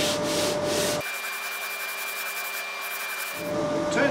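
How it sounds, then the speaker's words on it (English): Steady rasping strokes of a sanding block rubbed back and forth over a wooden guitar headstock veneer, close up, with no talking. "Trying to keep the sanding block as parallel as possible"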